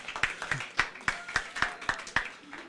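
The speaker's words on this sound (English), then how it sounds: "Applause, please." Sparse, evenly spaced hand claps at a European active citizens' event, about ten crisp claps in a steady rhythm, fairly faint and without talk.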